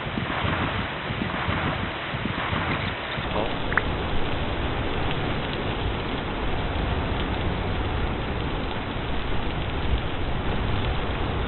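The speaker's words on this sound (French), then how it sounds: "Ah parce qu'il pleut." Steady video game rain, in Vintage Story, hisses continuously with a dull, muffled texture, unbroken throughout and no voices.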